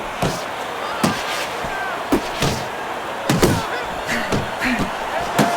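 Punches land in the Fight Night Champion boxing video game during a Mike Tyson versus Holyfield bout: sharp, heavy thuds arrive in irregular bursts and combos over a steady crowd-like background.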